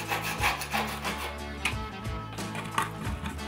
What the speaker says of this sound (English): Scraping back flaking paint chips